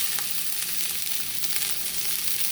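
Pork chops sizzle in a preheated, seasoned cast iron pan, a steady loud hiss and crackle of frying fat that holds without pause from start to finish, close up with no voices.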